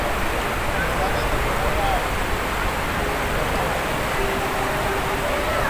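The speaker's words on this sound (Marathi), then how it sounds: "फक्त आवाज येतो ना पाण्याचा" A perennial river rushes past in a constant, loud, broadband roar near a bridge, steady throughout with no pauses and no distinct voices.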